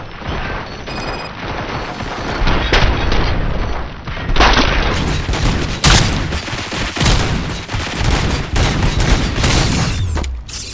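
Sustained heavy gunfire from RoboCop: Rogue City fills the scene, with dense rapid bursts and booming impacts running nearly nonstop, loud and close, with a short lull near the end.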